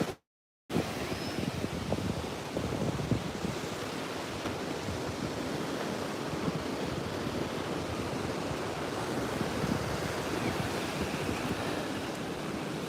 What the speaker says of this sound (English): I'll just let you see the ocean.